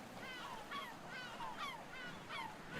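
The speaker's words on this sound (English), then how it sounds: "Where is the seagulls coming from?" Faint seagulls call in the background, with repeated squawking cries in a steady series over a low ambient hiss.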